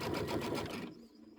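A sewing machine stitches the outer border of a Kimberbell Cuties table topper in a short, fast, close whirring run that stops abruptly, leaving near silence.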